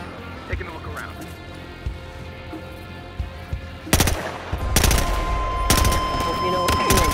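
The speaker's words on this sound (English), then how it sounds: "I heard gunshots!" Video game gunfire bursts out in loud rapid volleys in the second half, after quieter stretches with scattered thumps and a voice speaking in the background.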